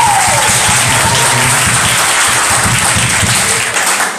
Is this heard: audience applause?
yes